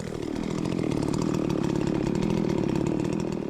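A Husqvarna 394xp or Jonsered 2171 chainsaw cuts into a tree, its engine buzzing loud and continuous at high revs throughout, up close and alone.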